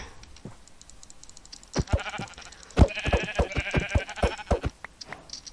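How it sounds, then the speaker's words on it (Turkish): Sheep in a Minecraft game bleat repeatedly in short bursts, loud and close, with brief clicky game sounds around them and no talking. "Şu koyunu öldüreyim bari."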